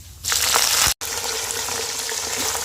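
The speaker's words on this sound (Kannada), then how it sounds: "ಕರ್ಬೇವಿನ ಸೊಪ್ಪು ಹಾಕ್ತಾಯಿದ್ದೀನಿ" Curry leaves hitting hot oil in a pan, alongside cumin and peanuts, while tempering for heralekayi chitranna: a steady, close hiss and sizzle with scattered pops, broken by a brief gap.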